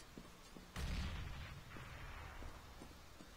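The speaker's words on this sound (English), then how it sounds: "I'm throwing a grenade." A grenade explodes in Counter-Strike: Global Offensive as a single sudden boom with a rumbling decay, heard fairly faintly among scattered distant game noises.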